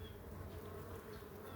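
Honeybees from a freshly caught swarm, now settled in a hive box, drone in a steady, continuous close buzz with no talk over it.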